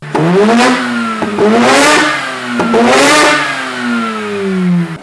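A Mazda RX8 fitted with an Invidia Q300 exhaust revs hard several times, rising and falling in pitch with a deep, throaty exhaust roar, loud and close, no talking.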